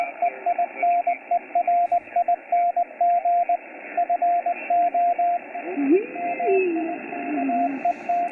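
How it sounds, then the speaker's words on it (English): Morse code on a ham radio HF band, a steady tone keyed in rhythmic dots and dashes that runs almost unbroken, with a drifting whistle-like tone crossing in near the end. "You got people doing CW."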